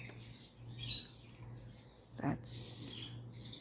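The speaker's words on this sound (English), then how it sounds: "that's birds singing" Neighbors' caged birds chirping in short, faint bursts in the background of a quiet morning room, with a steady low hum underneath.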